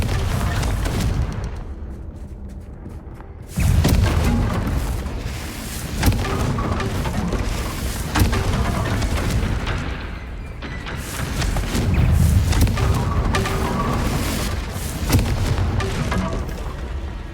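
Confringo fire spells explode in a combat scene from the video game Hogwarts Legacy, producing repeated booming blasts and crackling impacts over a dense, rumbling battle mix.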